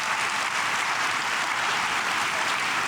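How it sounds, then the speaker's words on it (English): Dense, sustained applause from a film festival audience, a steady wash of many hands clapping at once with no gaps for the whole stretch. "So I'd like a round of applause for them as well."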